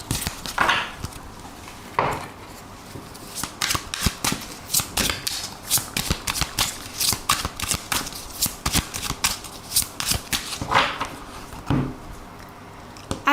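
Tarot cards shuffled by hand in quick, close, crisp riffling bursts with brief pauses between, repeating steadily throughout with no talk.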